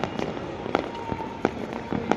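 Firecrackers go off in the distance, a scattered series of sharp pops at irregular intervals over a steady background hum, fairly faint.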